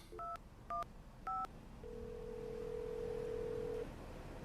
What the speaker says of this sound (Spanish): ¿Nunca has marcado el número de Joe?